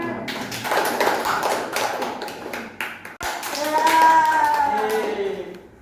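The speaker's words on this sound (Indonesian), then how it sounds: "Beri tepuk tangan ya." Clapping in a classroom discussion session, a modest group of hands patting unevenly for a few seconds, then a sharp knock and a stretch of voices talking, a child among them, as the clapping tapers.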